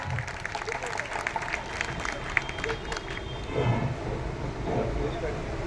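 An outdoor political rally crowd in Gevarai, Beed, breaks into sustained applause, a dense wash of clapping and crowd noise that holds for several seconds.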